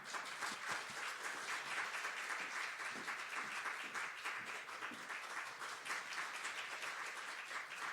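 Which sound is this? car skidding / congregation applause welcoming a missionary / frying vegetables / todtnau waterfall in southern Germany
congregation applause welcoming a missionary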